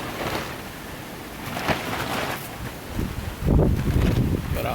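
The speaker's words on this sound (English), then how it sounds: "See how the wind is doing" Strong wind gusts buffet a portable car garage outdoors during a storm with gusts near 90 mph, a steady broadband roar swelling louder toward the end, with no talking.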